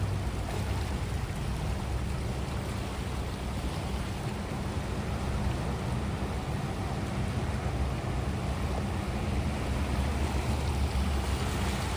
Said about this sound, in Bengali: এই দেখো ঘূর্ণির মতন জলটা ঘুরছে